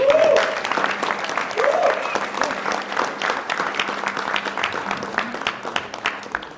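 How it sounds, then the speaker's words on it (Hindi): A theatre audience applauds loudly after a Hindi stage adaptation of Neil Simon's The Fools, a dense burst of clapping that slowly thins, with a few voices over it. "जोरदार तालियां बजाएं"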